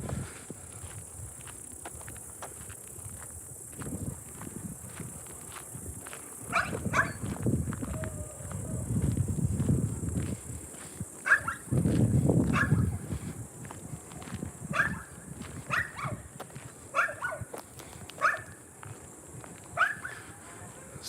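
On the outskirts of Tavtimanovo, a Russian village near the woods, a dog barks in short repeated bursts at moderate distance, alongside quiet footsteps and outdoor ambience, with intermittent louder rustling and movement between barks.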